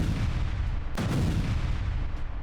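Israeli artillery strike on Lebanon, a single heavy boom landing over a dense, rumbling background roar, loud and close.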